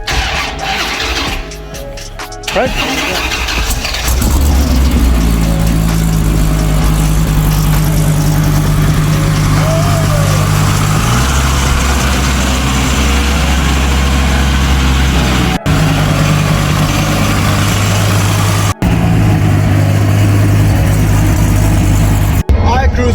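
A Dodge Viper SRT-10 twin turbo cranks and fires up, then settles into a loud, steady, rumbling idle close by, with a brief spoken word partway through.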